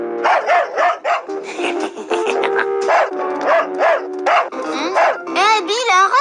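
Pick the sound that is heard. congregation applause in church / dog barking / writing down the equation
dog barking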